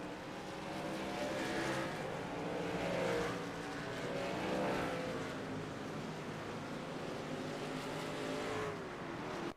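Race cars roaring around an oval track under caution, a continuous loud engine drone with rising and falling passes swelling and fading, no talk.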